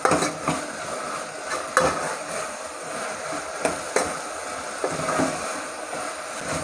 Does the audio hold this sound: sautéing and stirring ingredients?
yes